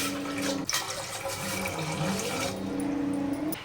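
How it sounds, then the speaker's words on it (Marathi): Water pours steadily into a cooking pot for making rice flour papad dough, a continuous splashing flow that runs through the whole stretch with a brief knock near the start, close and fairly loud. "2 वाटी पिठासाठी आपल्याला इथे 3 वाट्या पाणी घ्यायचं आहे।"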